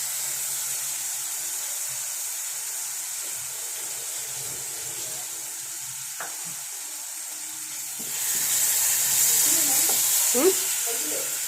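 Onions fry in a pan for a Kerala onion curry cooked as part of a Vishu feast, giving off a constant close sizzling hiss that grows louder toward the end, with a few faint clinks of stirring.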